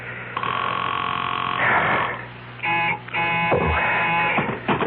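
A telephone rings in a 1970s radio mystery drama, a loud buzzing ring repeating in two or three bursts with brief gaps between them.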